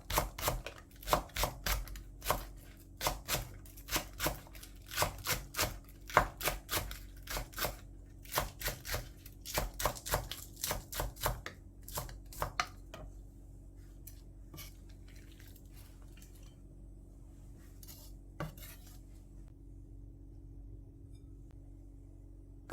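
A knife finely chops green onion (daepa, about 70 g) on a board in rapid, steady close strikes for about twelve seconds, then the chopping stops, leaving near silence with one faint knock later.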